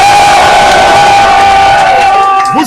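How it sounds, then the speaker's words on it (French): A large crowd roars and cheers loudly and continuously at a football league gathering in Guinea, the broad wash of voices filling the whole stretch and tailing off slightly near the end. "Veuillez acclamer d'abord."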